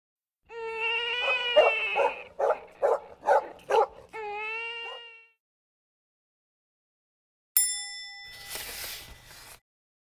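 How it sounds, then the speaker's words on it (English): A big dog next door gives a run of loud, close barks and yelps in quick succession, followed after a pause by a bright metallic ding and a brief rustling noise. "But there is a dog. A big dog."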